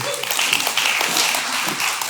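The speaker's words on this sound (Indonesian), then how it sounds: "Boleh dong tepuk tangan dulu Caca." A congregation at a Sunday church service claps in warm, continuous applause, a dense patter of many hands filling the room with no break.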